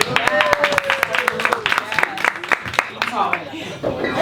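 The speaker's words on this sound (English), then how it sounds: "I want to give a round of applause for our audience" Audience applause at a birthday comedy show, crisp hand claps and cheers filling a few seconds while a voice talks over them.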